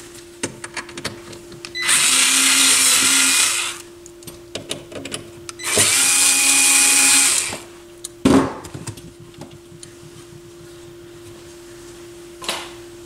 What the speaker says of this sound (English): And then I do have the two screws that I will quickly remove here